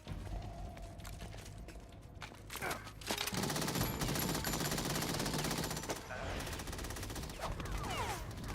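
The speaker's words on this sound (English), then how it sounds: "bullets ricochet" Rapid gunfire crackles through a firefight in Metal Gear Solid 2, bursts of shots dense and continuous for several seconds with metallic ricochet pings, fairly loud and without speech.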